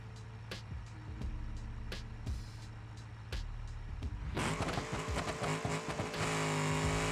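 Drag car launching on a nitrous shot in the BeamNG video game, engine droning before a burst of roaring revs and rapid shifts, with sharp clicks over the first half.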